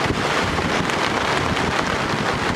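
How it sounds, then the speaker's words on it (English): Storm rain and wind at an Algonquin Park campsite make a dense, steady hiss with gusty wind buffeting the microphone, loud and constant throughout with no voices. "The storm looks to be sprinting"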